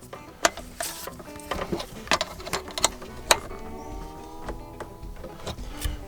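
A ratchet snugs up a fitting during a Minn Kota Raptor install on a Vexus AVX boat, giving rapid irregular clicks and sharp metallic ticks close by, with no talking.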